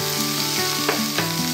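Green beans, peas, capsicum and spring onion sauté in oil in a pan, giving a close, steady sizzle broken by a few clicks of stirring.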